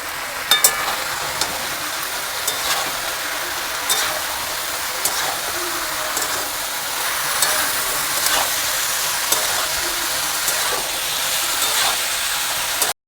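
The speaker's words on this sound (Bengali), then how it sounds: "এবার আমি দিয়ে দেব আলু আর লাউ।" Potatoes and bottle gourd are stirred into a spice mix in a hot pan, producing a steady loud sizzle and frying hiss with scattered scraping stirs across the whole stretch.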